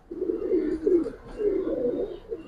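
Giribaz pigeons cooing close by in a few soft, throaty, rolling phrases over about two and a half seconds, with no voices over them.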